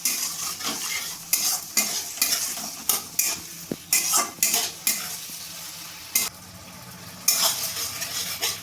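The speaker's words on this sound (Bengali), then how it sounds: "এবার আমি ভালো করে নাড়িয়ে নেব।" Fried potatoes with soy and Schezwan sauce are stirred in a pan for crispy chili potatoes, with repeated scraping and clinking strokes of a utensil against the metal over a low background sizzle.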